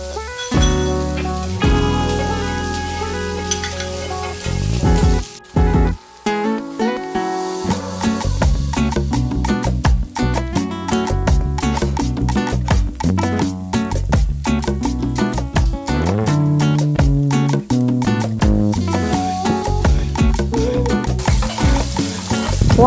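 Vietnamese bánh xèo crispy pancakes fry in hot oil, giving a steady, dense crackling sizzle that runs continuously without talk.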